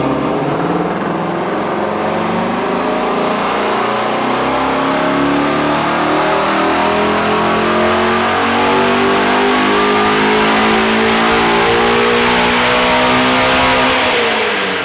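A Ford Mustang GT350 engine roars loudly and continuously on a dyno, running an E50 ethanol blend, revving steadily higher under load before dropping off at the end, recorded up close.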